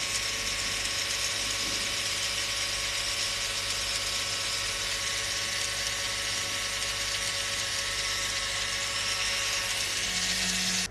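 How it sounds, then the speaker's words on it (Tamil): A small DC motor driven by an L298N motor driver under Arduino control, running steadily for the whole stretch with a continuous whirring, ratcheting mechanical hum, close and alone without any talk. "கனெக்ட் பண்ணதும் பார்த்திங்கன்னா நம்மளோட மோட்டார் வந்து ரன் ஆக ஆரம்பிச்சிருச்சு"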